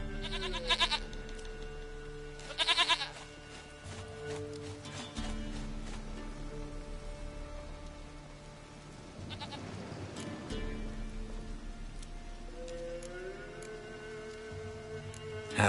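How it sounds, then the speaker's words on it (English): Goat bleating in The Witcher 3 on PS5: two short, nasal bleats close together near the start, then a faint, drawn-out wavering call later over a steady game ambience and music bed. "Goat of mine, dearest, sweetest goat."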